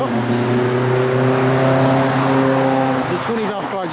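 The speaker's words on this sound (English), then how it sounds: "The 20 valve car just rolled by." A built 20-valve car engine with CP pistons and H-beam rods rolls past at a car-meet grand opening, its steady, loud drone holding under voices before the pitch shifts as it moves by.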